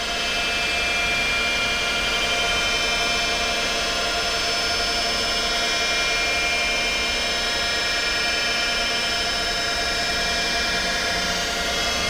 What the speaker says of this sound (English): There's the spindle running.